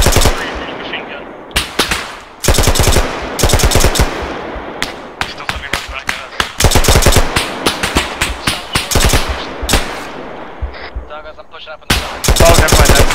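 Video game firefight with heavy machine gun fire and incoming rounds, loud, close bursts of rapid shots in quick succession that keep repeating, with brief gaps between the volleys.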